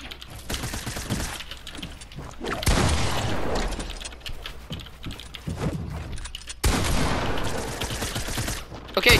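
Rapid gunfire rattles through a Fortnite arena duos match in dense, overlapping bursts, with loud volleys near the start, middle and end and brief gaps between them.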